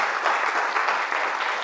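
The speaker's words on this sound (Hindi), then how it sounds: "पहले तो जोरदार तालियां" Loud, steady applause from a classroom audience at a career-guidance session, a dense continuous patter of many hands with no talk over it.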